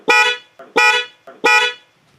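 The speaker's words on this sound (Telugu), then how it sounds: "ఇప్పుడు నేను దీన్ని వేరే రకమైన హారన్ పెట్టాను" An aftermarket horn fitted to a Toyota Fortuner Legender sounds three times, loud and close, each blast short and bright with brief pauses between.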